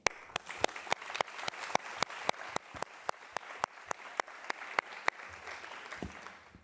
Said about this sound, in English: we should really warmly applaud all the student representatives